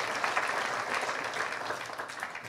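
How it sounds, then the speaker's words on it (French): Audience applause fills an awards ceremony hall, steady, even clapping from a crowd, moderately distant and sustained throughout with no voices over it. "on peut les applaudir et les remercier"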